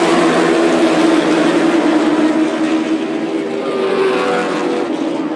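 A pack of CARS Tour pro late model race cars roars through a restart into turn one at North Wilkesboro Speedway, engines blaring loud and sustained as the field passes nearby.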